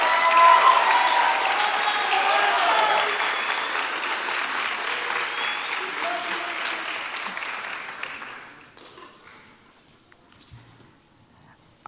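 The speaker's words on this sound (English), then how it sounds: "Please give these 9th graders a round of applause." An audience applauds 9th-grade band students at a junior high school spring band concert. The dense clapping is loud at first, then thins and fades away over about eight seconds into near silence.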